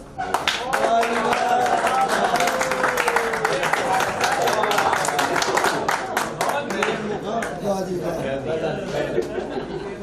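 Audience at a poetry recital applauding poet Asad Kamal, dense, loud clapping that swells and carries on steadily with scattered laughter and chatter mixed in.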